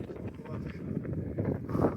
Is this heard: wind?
yes